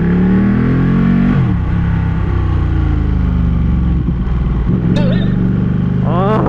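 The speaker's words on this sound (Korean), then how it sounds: "뭔가 다듬어지지 않은 엔진의 펀치력이 느껴집니다." A Ducati Panigale 1199R motorcycle engine revs loud and close, its pitch sweeping up and down through several throttle blips with gear changes, a rough, punchy tone.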